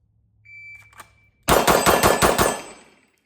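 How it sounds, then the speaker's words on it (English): A Springfield Echelon pistol fires a rapid string of six loud, close shots in a bill drill on a range, preceded by a faint beep and a small clank. "Literally, first shots out of the gun."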